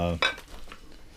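Crockware dishes clink as they are handled in an old farmhouse, a quick bright clatter near the start followed by softer knocks and rattles, close by.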